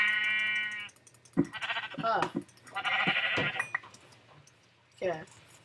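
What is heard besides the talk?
sheep bleating in a Minecraft FTB modpack video game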